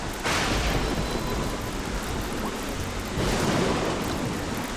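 Thunderstorm with steady heavy rain in the game Don't Starve: Shipwrecked, a constant loud hiss with two rumbling swells of thunder, one near the start and one toward the end.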